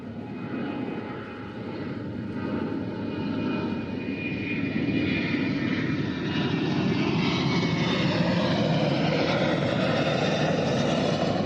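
A Grumman A6 Intruder attack plane's engine, suffering a fault, roars loud and continuous, its broad droning whine building slightly toward the end.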